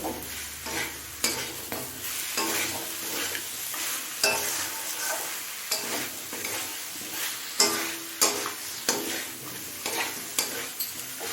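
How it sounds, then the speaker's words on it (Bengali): Cabbage curry with capsicum, fried fish head and salt being stir-fried in a pan, with a steady sizzle broken by repeated scraping and clattering stirs in an irregular rhythm, close up and without voices. "স্বাদ অনুযায়ী দিচ্ছি নুন এবারে সব কিছু একটু সময় নিয়ে কষিয়ে নেব"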